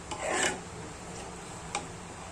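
Thick kurkure dough being stirred steadily in a pan, a soft continuous scraping rasp with a brief louder swell early on and one sharp knock later, close and quiet with no talk.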